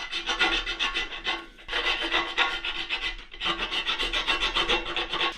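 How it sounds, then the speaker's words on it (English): Steady rasping strokes of a hand file on metal inside the swing arm axle hole of a KTM 250 SX motorcycle frame, close and loud in two long runs with a brief pause between. "I'm going to do the inside for the swing arm axle with the file"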